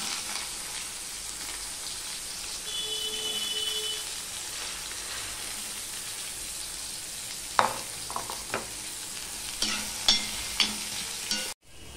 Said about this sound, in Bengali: তেলটা হয়ে গেছে, এবার আমি উচ্ছেগুলো দিয়ে দিলাম।